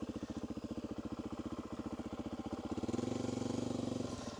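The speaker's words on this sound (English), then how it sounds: "I'll turn the bike off and take us over there." Suzuki DRZ400 motorcycle engine idling close by with a steady pulsing throb that swells slightly near the end; the shutoff itself is not clearly heard.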